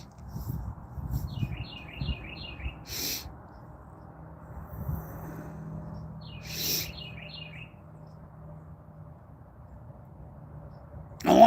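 Birds chirp outdoors in Oklahoma in two short bursts of quick high trilled notes, fairly faint and distant over a low background rumble, with a sharp noise at the very end.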